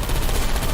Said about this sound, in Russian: Я слышал выстрелы